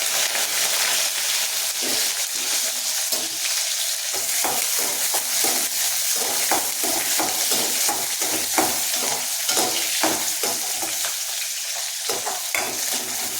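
Onions and garlic fry steadily in hot oil for curry leaf kuzhambu, with a continuous loud sizzle broken by repeated scraping and stirring clicks of a spatula.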